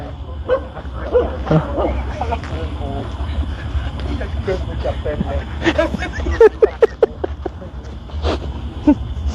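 A dog whimpers and yips in rapid, uneven bursts at night, its cries rising and breaking over steady background noise, with people talking close by throughout.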